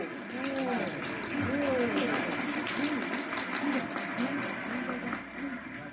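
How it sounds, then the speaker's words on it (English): A radio-drama parade crowd along Fifth Avenue, happy and laughing, forms a steady bed of murmuring voices and scattered clapping beneath an announcer speaking over it. "this is a happy, laughing crowd along Fifth Avenue today"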